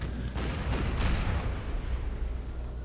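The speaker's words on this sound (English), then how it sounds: "We were still in the early stages of cannon bombardment." Cannon bombardment in an American Civil War mod of a video game, recreating the Battle of Franklin: a steady, dense rumble of distant artillery with several sharper booms and bursts rising out of it.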